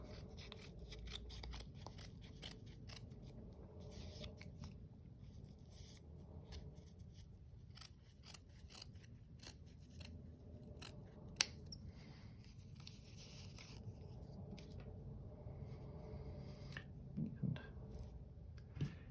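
Scissors cutting out a fabric gnome hat pattern, a string of quiet, close snips and crisp shearing strokes over a faint hum of room noise.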